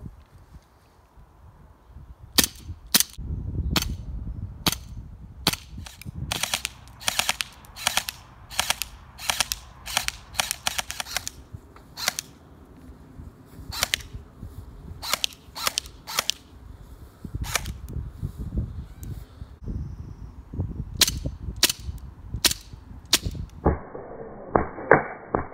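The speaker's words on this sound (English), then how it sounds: "This is the Colt 1911 airsoft gun. I'm just going to test it out." Colt 1911 airsoft pistol with blowback firing in sharp, snappy cracks, many single shots at uneven intervals, close and loud, with a few quick bursts and handling clatter in between.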